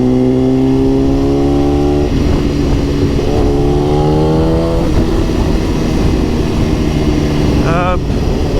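A BMW S1000RR motorcycle revs loud and close, its engine note climbing through several gear pulls with brief drops between shifts, plus a sharp high rev near the end.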